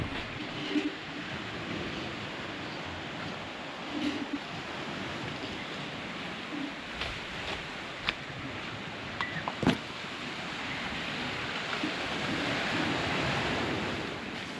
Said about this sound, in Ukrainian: Звуки прибою, така собі фіджійська музика, яку ти чуєш постійно.